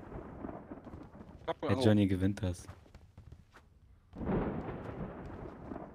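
Thunder from a storm outside rolls in as a broad, loud rumble late in the clip, after a stretch of voices talking and a brief sung or shouted passage.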